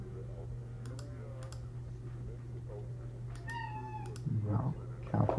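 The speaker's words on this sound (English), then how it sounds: "It's my kitty cat." A house cat meows several times nearby over a steady electrical hum and occasional keyboard clicks, with a couple of brief rising cries near the end.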